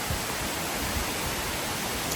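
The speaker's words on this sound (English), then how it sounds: "It's just a big old waterfall." Waterfall at Rock Island State Park, a constant broadband rush of falling water, loud and even with no other sounds.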